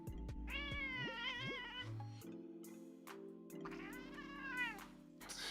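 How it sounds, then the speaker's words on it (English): Maisie the cat meows loudly and insistently for attention in two long, drawn-out wailing calls separated by a pause, close to the microphone, over faint background game noise. "Maisie, the cat that begs for attention"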